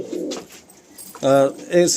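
A pigeon coos in short, close phrases, with faint background sounds between the calls.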